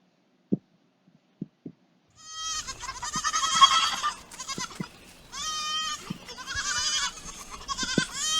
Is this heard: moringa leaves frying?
no